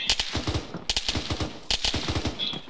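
Machine gun fire in ARMA 3, loud, close bursts of rapid shots in three clusters separated by short gaps, with sharp, crackling reports.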